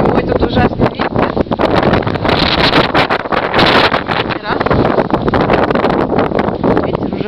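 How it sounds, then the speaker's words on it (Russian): Strong winter wind buffets the microphone in loud, roaring gusts throughout, with voices partly buried beneath it. "Ветер ужасный."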